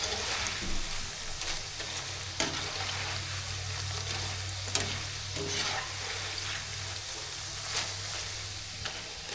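Pumpkin pakoda fritters frying in hot oil, a steady crackling sizzle that runs the whole time with a few sharper pops and the clink of a spatula turning the pieces, close up and with no one talking.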